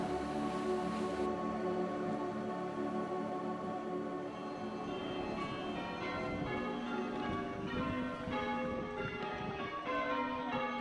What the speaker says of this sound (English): The sound of the bells drifting from the church across the sports field to call the flock to prayer